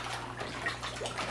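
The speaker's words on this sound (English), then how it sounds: "they're splashing the crap out of me" Fish in a 75-gallon saltwater aquarium thrash at the surface during feeding, giving a steady close splashing and sloshing of water with no voices.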